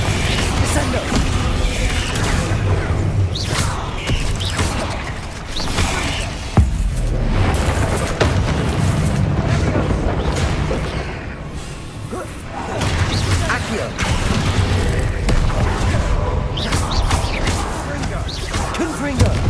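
Fire and blasting spell explosions from Hogwarts Legacy, rapid repeated crashes and booms landing one after another in a dense, loud stream of combat noise, with a voice shouting spell names over them.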